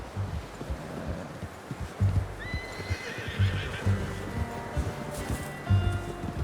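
A horse whinnies sharply over the steady clip-clop of hooves in Red Dead Redemption 2, set against soft rustling and wind outdoors.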